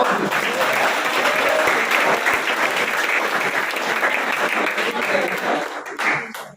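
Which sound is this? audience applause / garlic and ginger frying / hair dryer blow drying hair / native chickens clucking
audience applause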